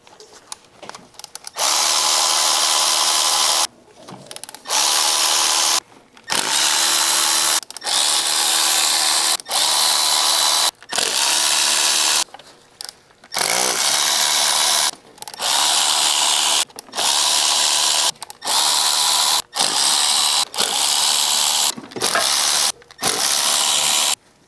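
A power tool backs T30 bolts out of the cam cover on a 2008 VW GTI, running in a dozen or so loud, close whirring bursts of one to two seconds each, separated by short pauses.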